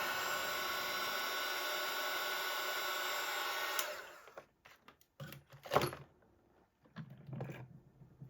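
Steady broadband hiss of a heat gun warming a part of a Hitachi air suspension compressor from a Range Rover L322, running loud and even for about four seconds, then cutting off, followed by scattered clicks and light handling knocks.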